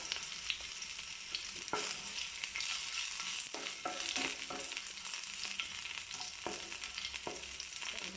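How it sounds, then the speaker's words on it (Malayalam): Chopped ginger and garlic fry in a pan as they are stirred, giving a constant hissing sizzle with repeated scraping and tapping strokes from the spoon throughout. "പച്ചമണം മാറുന്നിടം വരെ നമുക്കൊന്ന് ഇളക്കി കൊടുക്കാം."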